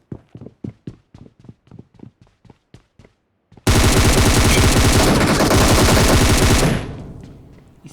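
Rapid automatic gunfire in the BGMI battle royale game: a string of about a dozen evenly spaced shots, then a dense, loud sustained burst of firing lasting around three seconds before it cuts off and fades.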